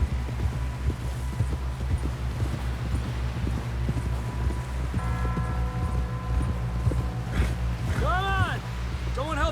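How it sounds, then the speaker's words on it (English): A horse gallops in Red Dead Redemption 2 with quick, steady hoofbeats under a low droning music bed and a few tonal game sounds. "Knock John down off this horse."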